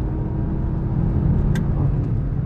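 A VW Golf 7 GTI Performance (169 kW) under full throttle on a twisty mountain pass, its engine a steady loud low rumble and drone heard from inside the cabin, with a faint brief click partway through.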